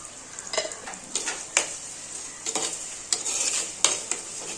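Chopped onions with a pinch of salt and a little turmeric sauté in a pan at home, giving a soft steady sizzle broken by intermittent scraping stirs of a spoon, fairly close and with no talking.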